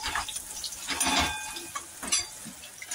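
Bhagar (barnyard millet) being sautéed with salt in a pan, giving a soft sizzle and scraping stir with a few louder clinks, fairly quiet and with no talking.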